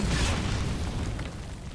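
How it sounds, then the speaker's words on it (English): A loud explosion in the video game Metal Gear Solid Delta: Snake Eater, a heavy booming blast with a rumbling low-end tail that fades slightly over under two seconds. "Another explosion."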